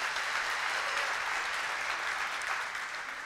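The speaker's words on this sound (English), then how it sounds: "Let's give a round of applause to Oak Ridge Online" Steady, dense applause from a crowd fills the whole stretch, evenly loud without pauses or voices rising above it.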